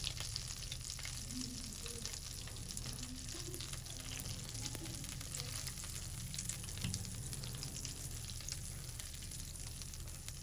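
Ground chana dal roasts in a pan over a low flame for halwa, giving off a faint, continuous dry sizzle with occasional soft scraping, steady and quiet throughout.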